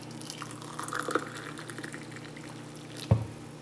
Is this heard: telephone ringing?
no